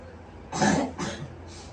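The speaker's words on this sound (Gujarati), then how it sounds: "ઉધરસ ખાવ ને" A person coughs on request, two short, fairly close coughs separated by a brief pause, followed by a softer throat sound.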